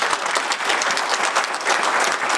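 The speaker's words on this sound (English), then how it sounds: "I think these two especially need a round of applause for that" Audience applause at a Dubuque Miners football signing day event, a full, steady round of many people clapping together, close and loud throughout with no speech.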